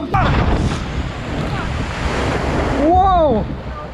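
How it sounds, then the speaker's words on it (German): Water rushes loudly over a boat on a water ride at the Kernies Wunderland amusement park, a close, steady surging roar, with a voice crying out briefly near the end. "Hast du gesehen, was da für eine Welle von hinten nach vorne kam?"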